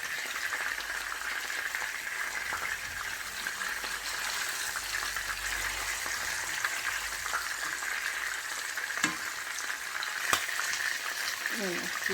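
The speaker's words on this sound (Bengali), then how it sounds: "চিকেন ফ্রাই হইতেছে" Roaster chicken frying in oil throws off a steady, dense sizzle that runs the whole way through, with a few faint clicks and a low rumble underneath and no talking.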